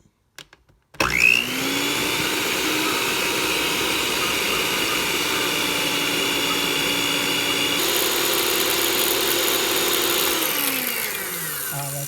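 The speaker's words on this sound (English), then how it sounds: "Let's put the stand mixer down and let's put it on low speed." A stand mixer starts with a click and runs at low speed, a steady whirring motor drone that holds constant, then winds down near the end.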